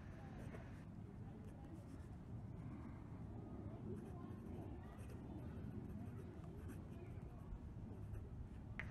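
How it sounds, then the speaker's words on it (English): A PenBBS 480 fountain pen with a stiff nib and wet feed scratches rapidly across paper in quick handwriting, a soft continuous close-up rasp without pause. "Quick writing."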